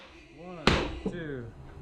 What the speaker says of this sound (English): You gotta wait for 2 pops.